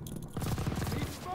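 Rapid machine gun fire in the Call of Duty WWII video game, a fast burst of closely spaced shots rattling for about a second amid game battle noise.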